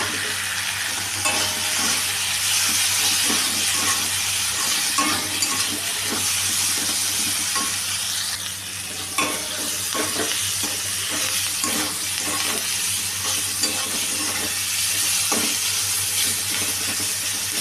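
Potatoes and carrots, fried earlier, are stirred into egg chow mein in a hot pan, producing a steady loud sizzle with repeated scraping stir strokes throughout; no voices.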